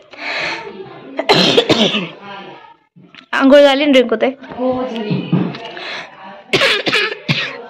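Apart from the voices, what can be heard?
coughing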